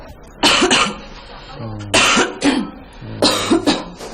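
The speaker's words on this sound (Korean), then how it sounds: "헛기침 같고" Three short throat-clearing coughs, each a quick double hack, spaced about a second apart and heard close up.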